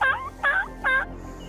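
Wild turkeys gobble three times in quick succession, each burst a rattling, warbling call at moderate distance, separated by short pauses with quiet outdoor ambience between.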